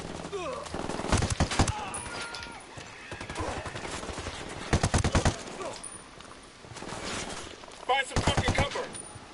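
Video game gunfire in Ghost Recon Wildlands: bursts of rapid automatic shots in several volleys, fairly loud against background game noise, with a voice speaking between bursts.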